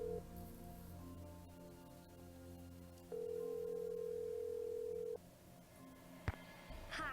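A phone call is dialed in a Nancy Drew video game. Steady telephone tones sound faintly, then a louder single tone holds for about two seconds, followed by a sharp click and quieter line noise.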